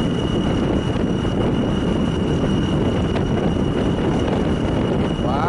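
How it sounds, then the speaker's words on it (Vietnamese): Steady roar of strong wind buffeting a microphone outdoors by the water in Soc Trang, constant and loud across the whole stretch, no talk. "trời đang gió nữa"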